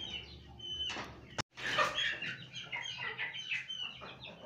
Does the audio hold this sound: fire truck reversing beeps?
no